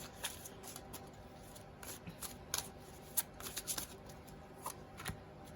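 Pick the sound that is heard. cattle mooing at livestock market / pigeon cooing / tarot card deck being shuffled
tarot card deck being shuffled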